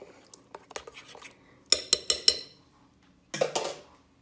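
A spoon stirs homemade salsa in a bowl, giving a few soft taps and then a quick run of sharp, close metallic clinks, with a brief scraping stir at the end.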